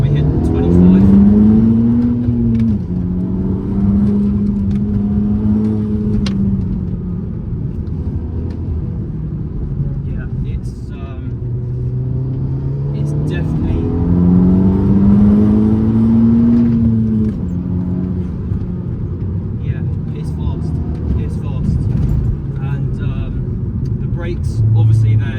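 Stage 3 Audi S3 8P engine on boost, heard from inside the car as a loud, steady in-cabin rumble that rises in pitch through two sweeping acceleration pulls in second gear, with a voice talking over it.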